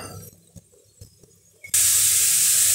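Beetroot sautéing in oil in an uncovered pan: a few soft clinks, then a sudden loud, steady sizzling hiss that bursts in and holds to the end.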